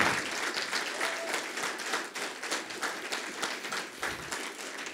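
An audience claps at a bicycle congress panel discussion, a thick, steady round of applause with small surges that keeps going from start to finish.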